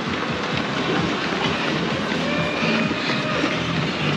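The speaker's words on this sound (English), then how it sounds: "One of Melbourne's iconic trams just go past us." Melbourne tram rolling past on a city street during a half marathon: a loud, continuous close rumble and rattle of wheels on rails amid crowd noise.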